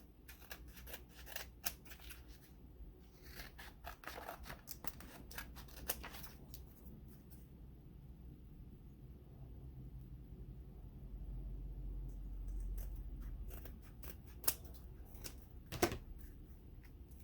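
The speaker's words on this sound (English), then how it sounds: "And then just go around it, trim it up." Scissors trimming around a notepad made from upcycled calendar pages, giving quiet, irregular snips and paper rustles over a low background rumble, with a couple of sharper clicks near the end.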